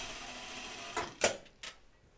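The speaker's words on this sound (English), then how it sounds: "I kind of want to put a little stay stitch, another stay stitch in this neckline right now" A home sewing machine runs a stay stitch along the neckline of a Kelly anorak, a steady close whir for about a second followed by a few sharp clicks and clunks as the machine stops.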